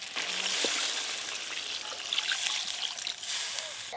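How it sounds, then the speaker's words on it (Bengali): Water poured into a pan of spiced potatoes and tomatoes for a fish curry gravy, a soft, steady trickling and splashing that lasts a few seconds. "এবার ঝোলের জন্য একটু বেশি করে জল দিয়ে দেব।"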